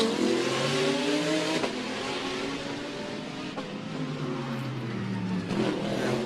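GT Cup race cars at the Macau Grand Prix street circuit roar past loud and close, with engine notes rising and falling as they accelerate and shift through the walled corners, and no talk throughout.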